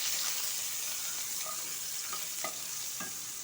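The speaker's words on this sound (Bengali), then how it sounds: "এরপর দিয়ে দেব পেঁয়াজগুলো একটু লাল লাল করে ভেজে নেব।" Onions frying in a pan for a fish curry, a steady soft sizzle with a few light stirring scrapes, close and alone with no voices.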